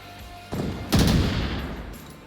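Gunshots in the VR shooter Onward, a sharp near burst of fire with a rumbling tail, loud and alone.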